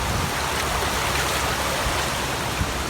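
Rain-swollen creek below the Russell Vale colliery, its water blackened with coal fines: a loud, steady, broadband rush of flowing water filling the whole stretch with no pauses.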